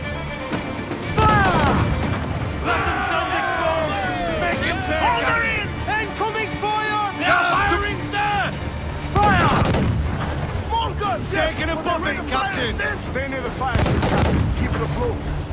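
Ship cannons fire in repeated heavy booming volleys during an Assassin's Creed Black Flag naval battle, with crashing impacts and shouting crew voices layered throughout.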